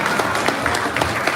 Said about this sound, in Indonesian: Adalah tepuk tangan untuk Kang Ahaye dan juga Kang Anies.